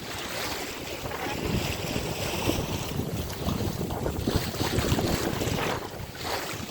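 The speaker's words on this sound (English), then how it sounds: "Still a few gusts coming and catching us" Wind buffets the microphone in rough, rushing gusts at sea, with a steady roar of moving air and water throughout, no voices.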